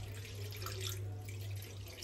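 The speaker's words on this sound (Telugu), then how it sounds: "కొంచెం వాటర్ వేసుకొని" Water being poured into a cooking pot of boiled chicken stock while making chicken pulao, a steady running, splashing flow heard close up with a constant low hum underneath.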